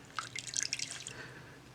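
Water drips and patters from wet knitting pressed down by hand while wet blocking: a short cluster of quick, close drops and trickles that fades into a soft wash.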